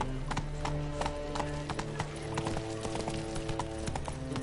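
The horse Roach gallops in The Witcher 3, steady rhythmic hoofbeats close and continuous with a faint voice heard briefly.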